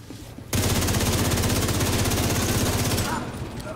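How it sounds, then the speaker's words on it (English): Sustained automatic gunfire in the video game The Division 2, a loud, rapid continuous burst lasting about two and a half seconds before tapering off, with quieter game sounds before and after. "I'm shooting these guys."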